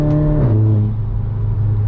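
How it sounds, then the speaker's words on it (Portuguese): Volkswagen Jetta 2.0 TSI exhaust under acceleration, a brief deep engine roar that drops in pitch as it shifts, then settles into a steady low drone, loud and close. "Pro pessoal que gosta de escutar o ronco do carro, te aconselho a escutar o vídeo de fone"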